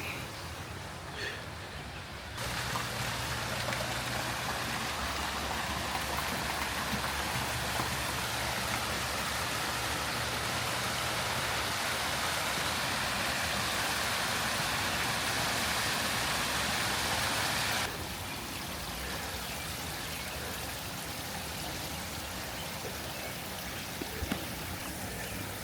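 After a brief quiet start, a second garden pond pump starts up and water flows with a steady, rain-like rushing wash. A faint low hum runs under it for a while. The flow eases to a softer trickle near the end.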